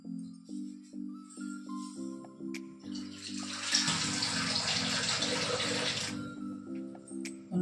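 Half a cup of water poured in the kitchen while cooking avul kolukkattai, a steady splashing pour lasting a few seconds, set against a repeating electronic melody.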